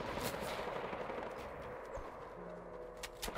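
Rapid gunfire aimed at the player in Fortnite, a dense, continuous rattle of shots at a steady loudness, with a few sharper cracks toward the end.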